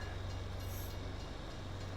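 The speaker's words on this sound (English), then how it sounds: "Train's just passing." A train passes in a competitive multiplayer video game, making a steady, dense rushing rumble with low rolling undertones. It sounds moderately loud throughout the short stretch, with no voices over it.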